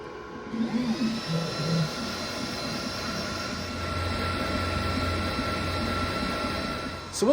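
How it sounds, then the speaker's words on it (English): Laser engraver lasering away the material of a stencil screen for shirt printing, giving a steady, close mechanical whine with a high hum and a busy motor buzz that runs on almost unbroken. "what the machine's doing right now is it's lasering away that material, creating our stencil"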